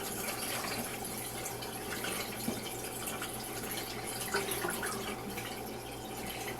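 Water drains out of a Laundry Pod manual washer with a faint, steady trickling and gurgling hiss, low in level and continuous throughout without any talking.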